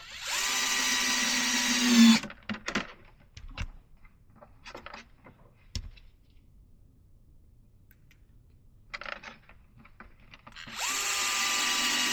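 A power driver runs 3x10 screws into a Traxxas Slash late model RC car body, a loud whirring burst at the start and end with scattered clicks and handling knocks in between.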